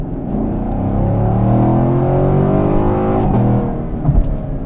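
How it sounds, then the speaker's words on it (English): A Chevrolet Camaro by HSV accelerates hard onto a motorway, its engine note rising in pitch as it pulls through the revs and then easing off, loud and close from inside the car, with no talk. "And that's where this engine really comes alive."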